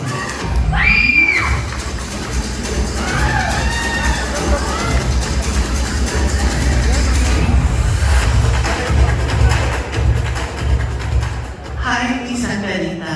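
Pageant audience at a Miss Universe Philippines Batangas press presentation cheering and shouting for a contestant, a loud continuous crowd roar with bursts of screams, mixed with a host's voice and speech over a PA.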